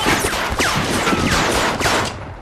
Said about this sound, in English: the rapid and excessive volley of gunfire that is unleashed